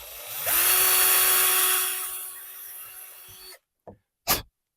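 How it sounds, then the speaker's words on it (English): A small power drill whines loudly for about three seconds while drilling a pilot hole, then winds down, followed by a couple of faint clicks. "we want to drill a pilot hole dead center in there."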